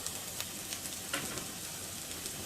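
Turmeric and asafoetida sizzling in hot oil in a pan for foxtail millet masala khichdi, a steady close crackle with soft stirring scrapes and a few light taps.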